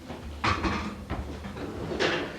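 An oven door opens in a home kitchen during baking of Armenian paklava, with a few close clunks and scraping knocks spaced over a couple of seconds, moderately loud.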